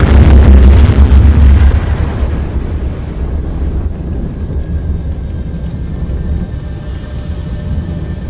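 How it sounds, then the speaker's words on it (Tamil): A huge, deep explosion booms and rumbles, then slowly fades into a long, low roar with wind-like noise. "மிகப்பெரிய பிளாஸ்ட் ஆகுது."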